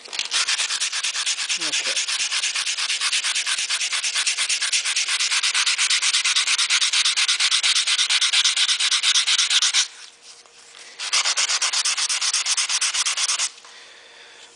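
Stainless steel trim sanded by hand, a loud continuous scratchy rubbing with a fast back-and-forth rhythm that runs steadily, pauses briefly, resumes, then stops near the end.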